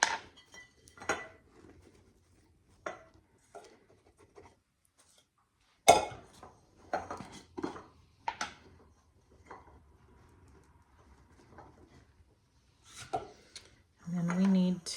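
Bags of roasted almond kernels are taken out of glass jars in a home kitchen, sparse close clinks and knocks of glass with light rustles between them, and a short louder rustle near the end.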